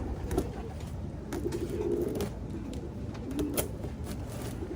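Pigeons cooing softly in a few low, rolling calls over a constant background rumble, with no talking.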